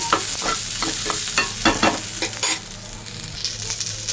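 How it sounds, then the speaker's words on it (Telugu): A spoonful of urad dal and a few curry leaves fry in hot oil in a pan for a tamarind chutney, giving a continuous loud sizzle broken by repeated quick stirring scrapes, close up with no talking. "ఒక స్పూన్ ఉద్దిబ్యాళ్ళు అయితే వేసుకోవాలి అలాగే కరివేపాకు కొద్దిగా వీటినన్నింటినీ కూడా ఒక రెండు నిమిషాలు వేయించాలండి"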